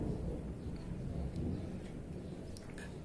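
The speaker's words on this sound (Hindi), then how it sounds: "वैसे भी आज बादल गरज रहे हैं, वर्षा के पूरे संकेत है।" Deep thunder rumbles on without a break, a low, rolling roar from a cloudy sky that holds steady for a few seconds with no voices over it.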